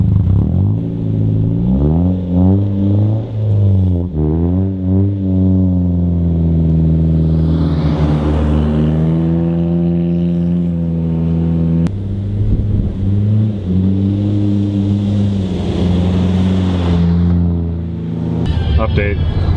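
A car engine revs and roars through a corner on a snowy mountain road in freezing cold, with pitch sweeping up and down as it drifts, while people talk loudly over it throughout.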